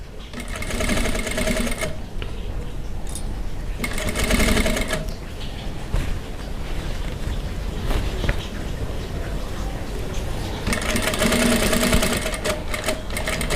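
A sewing machine stitches fabric in loud, fast, rattling bursts. It runs hard for a few seconds, slows to softer stitching in the middle, then runs fast again for a backstitch, with no talk.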